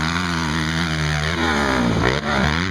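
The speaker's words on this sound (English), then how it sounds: "This is a 250F 4-stroke motocross bike." A 250F four-stroke motocross bike engine runs steadily and loud throughout, with a strong harmonic drone, a brief rev dip and recovery near the end, and no voices.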